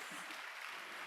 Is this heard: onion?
no